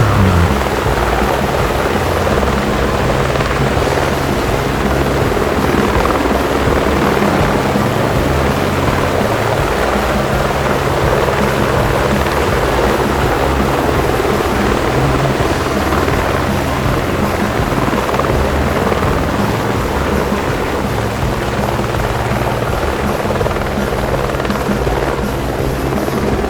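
Military rotorcraft at an airshow, a loud, continuous, close rotor drone with a steady broadband roar that holds level throughout.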